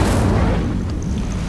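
The Incendio fire spell in Hogwarts Legacy goes off as a loud, close burst of fiery whooshing that fades quickly into a rumbling tail.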